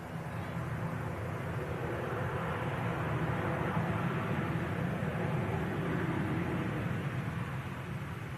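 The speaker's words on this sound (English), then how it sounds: "There's aircraft coming in from Belfast." An aircraft arriving from Belfast at Manchester Airport: a continuous broad jet roar, moderately distant and steady, filling the whole stretch without breaks.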